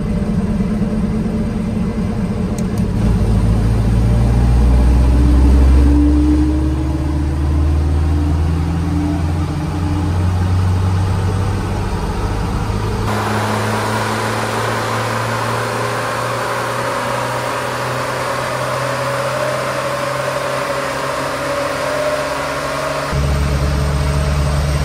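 A car engine runs steadily during a test run to gauge fan power, a loud continuous low drone that swells and eases slightly, with a brief drop in the middle and no talk.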